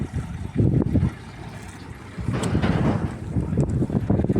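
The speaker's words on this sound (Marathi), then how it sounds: "ट्रॅक्टर आला आपल्या चुलत्याचा." A tractor arrives outdoors on a farm with a low, rumbling engine drone that swells and fades, partly buried under gusty wind noise, with no talking.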